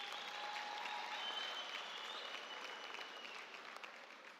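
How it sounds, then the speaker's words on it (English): Sustained applause from a large crowd at a university graduation ceremony, a steady dense wash of clapping holding for the full stretch and easing slightly toward the end. "Can we give them a round of applause?"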